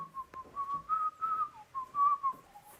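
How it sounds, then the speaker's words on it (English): A lone person whistles a tune, a clear melodic line of sustained and gliding notes with short breaks between phrases, close and fairly quiet. "I hope I don't get demonetized for whistling that song"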